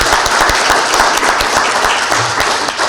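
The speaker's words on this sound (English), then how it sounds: "Let's give her another applause." A live audience applauds loudly and steadily for about three seconds, dense close clapping filling the room with no talk over it.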